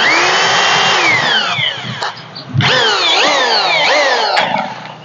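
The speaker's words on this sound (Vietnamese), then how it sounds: "Đây là vừa khoan vừa búa." A 220 V, 800 W three-function hammer drill runs loud and close, whining as it winds down, then spinning back up with repeated rising and falling speed changes.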